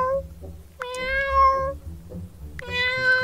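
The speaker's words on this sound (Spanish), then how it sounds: "entiendo sus maullidos." A cat meows repeatedly and clearly, with two long drawn-out calls and shorter ones between, close and loud over a low background rumble.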